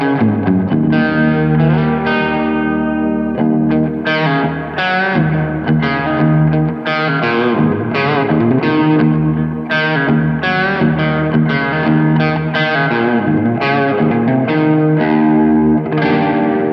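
Electric guitar played through a Tone City Tiny Spring reverb pedal placed in the effects loop of an otherwise dry amp, with ringing chords and picked notes trailing into a lush spring-style reverb tail, loud and continuous.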